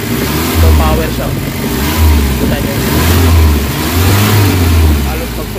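Engine of a Nissan Vanette with low power and throttle delay, revving hard at full throttle in repeated surges that rise and fall, loud and close, with someone talking over it.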